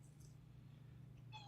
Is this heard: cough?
no